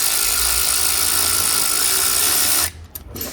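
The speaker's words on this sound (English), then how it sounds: "So grab the deep socket, 13. Remove that elbow." A ratchet with a 13 mm deep socket removing a bolt during work on a Passat alternator, giving a steady, loud, buzzing run of clicks that stops abruptly near the end, close up.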